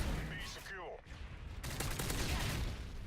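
Gunfire from Modern Warfare 3 played on a PS3 rattles in bursts through a dense, loud game mix, with a brief sweeping effect before the shooting picks up.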